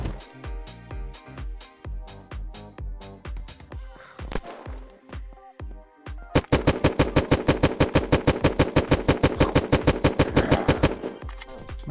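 Gunfire in the survival shooter Unturned: separate loud shots at first, then a dense, rapid automatic burst that runs for several seconds, close and with no talk.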